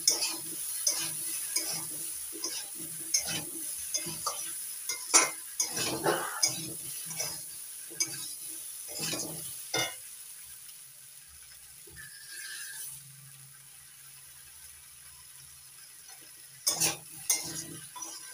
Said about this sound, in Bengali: সবগুলো সবজির সঙ্গে আমি আদাটা ভালো করে মিশিয়ে নিয়েছি